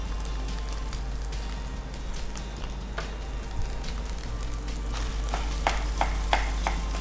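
Fried rice with chicken stirred and frying in a pan, with a steady sizzle running throughout and the occasional scrape and clink of a utensil against the pan as it is mixed, under a low constant hum.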